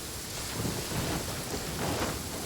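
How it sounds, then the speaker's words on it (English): Steady heavy rain with rolling thunder in a video game storm, a dense continuous wash that swells in rumbling surges, with no voices. "It's raining again."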